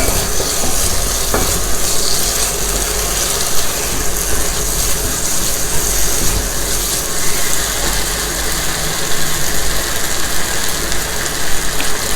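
Surf clams stir-fried over high heat in a pan with oyster sauce, sizzling loudly and steadily while a utensil scrapes and clatters against the pan in a continuous rhythm, with no talking.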